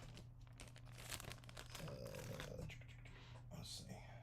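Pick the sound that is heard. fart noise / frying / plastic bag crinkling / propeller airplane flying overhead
plastic bag crinkling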